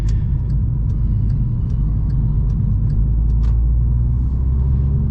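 Deep, steady VW Scirocco engine rumble heard from inside the moving car, constant and loud, with a few faint clicks and ticks over it.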